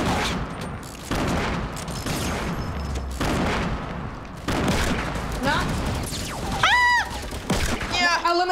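Fortnite gunfire in Tilted Towers: sustained volleys of overlapping shots and thuds, with a short break partway through and a burst of bright electronic game effects near the end, while voices talk over the action.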